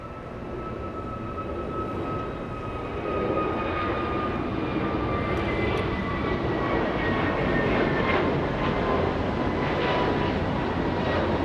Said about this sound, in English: So the American on its takeoff roll right now, flying to Philadelphia.